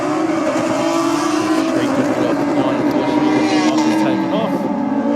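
Drag racing motorcycles hold their engines at high revs on the start line at Sydney Dragway, a steady, loud droning howl under a commentator's voice.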